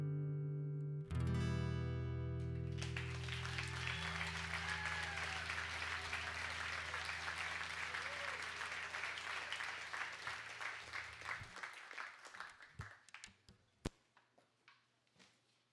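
A concert audience at a Sunday night show in Nashville applauds and cheers loudly and densely for several seconds, with a few whistles and whoops, then the clapping thins into scattered separate claps that fade toward the end.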